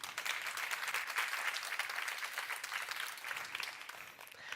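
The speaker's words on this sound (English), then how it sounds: "Let's give these strong ladies a round of applause." Audience applause fills a women's leadership summit hall, a dense, steady wash of clapping that holds strong for several seconds before easing slightly at the end.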